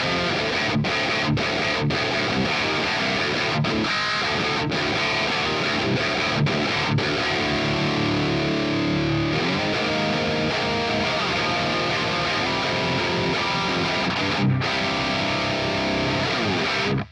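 Distorted electric guitar fitted with an EverTune bridge, played through an ML Sound Labs amp simulator, a thick sustained riff with rhythmic chugging and brief stops, loud and continuous.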